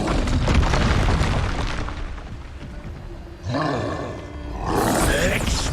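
The Expulso explosion spell goes off in Hogwarts Legacy with loud roaring blasts, a sustained rumbling roar followed by two more bursts with swelling, whooshing tails, over dense combat noise.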